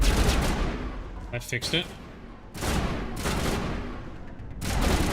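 Sustained weapon fire from the remastered Mass Effect 1 Legendary Edition video game comes in loud, dense bursts separated by brief pauses, with a voice speaking briefly during a lull.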